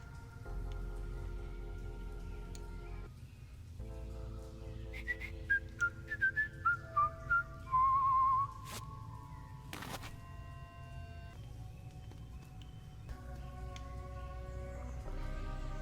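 Game sounds and music play in Truberbrook, with a series of short, quick whistle-like tones in the middle, rising and falling in pitch, as a character whistles twice.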